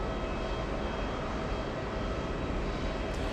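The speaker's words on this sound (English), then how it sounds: "We have JetBlue 991 flying in from Buffalo, New York." JetBlue flight 991 arrives from Buffalo, New York, a dense steady jet rumble and hiss at moderate distance, continuous and unbroken for a few seconds with no speech.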